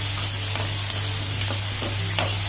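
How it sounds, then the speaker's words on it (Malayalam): Tomatoes and cashews frying in a pan as they are stirred, a continuous close sizzle broken by soft scraping strokes of the spoon, with a steady low hum underneath and no voices. "നല്ലപോലെ ഒന്ന് ഇളക്കി കൊടുക്കുക"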